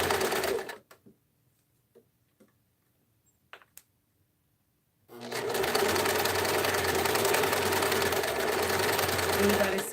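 A home sewing machine stitches fabric with a steady, fast whirring run of needle strokes, loud and close. It starts after a quiet stretch of faint handling clicks and keeps going without a break.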